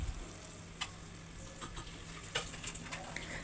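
Tomato paste, then tomato juice, sautés in a pan for a moussaka-style eggplant and minced meat tray, giving a soft, quiet sizzle with a few sharp ticks and crackles scattered throughout.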